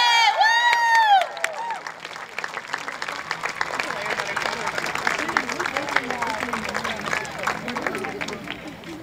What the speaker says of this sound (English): I want you all to give her the largest applause ever